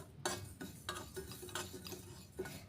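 Sugar frying over a low gas flame for masala tea, heard as a quiet close run of spoon scrapes and light clicks against the pan with a soft sizzle underneath.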